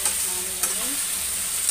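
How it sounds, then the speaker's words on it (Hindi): Pumpkin and potato curry being stirred in a pan, a soft steady sizzle with faint scraping strokes of the spoon, close and continuous for a moment. "इसको अच्छे से मिक्स करेंगे सब्जी को।"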